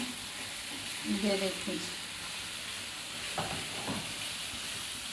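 Chicken mince and tomatoes fry in a pan with a faint, steady sizzle and occasional stirring scrapes. Someone speaks briefly over the cooking.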